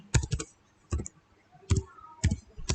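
Typing on a computer keyboard while setting up a router's command line, heard as short bursts of crisp, close key clicks separated by brief pauses.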